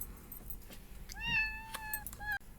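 A cat gives a drawn-out meow followed by a shorter one, fairly faint in a quiet room with small background noises.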